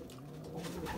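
A Belgian racing pigeon gives a soft, low cooing. The murmur is faint and continuous, heard up close over a quiet hum with no voices.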